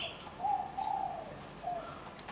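Soft, repeated cooing of a pigeon or dove in a quiet spot, three short mellow phrases close by with no talking over them.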